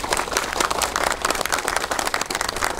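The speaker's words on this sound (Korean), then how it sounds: "큰 박수 다시 한번 부탁드립니다." A crowd at a coast guard ceremony applauds, with steady, dense clapping that carries on throughout.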